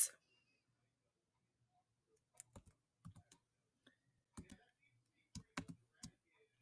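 Keys on a computer keyboard clack in short, uneven bursts of a few taps each, close and fairly quiet against near silence.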